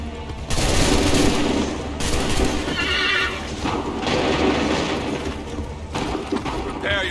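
Soldiers fire a musket volley in Assassin's Creed 3, a loud dense burst of gunfire mixed with horses neighing and hooves clattering, all heavy and continuous with some shouting behind it.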